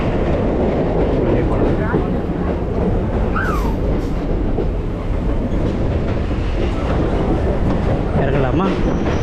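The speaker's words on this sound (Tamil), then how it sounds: "சென்னை எழும்பூர் ரயில் நிலையம் வந்தாச்சு." Loud, steady rumble and clatter of a passenger train pulling into Chennai Egmore railway station, with a brief squeal and continuous close rolling noise.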